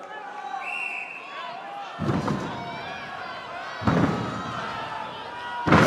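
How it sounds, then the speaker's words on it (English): A 200 kg weight slams onto the top platform of a strongman power stairs event, giving three heavy, booming thuds spaced about two seconds apart over a background of crowd noise and voices. "You can hear the thundering noise as that 200 kilogram hits the top of the platform."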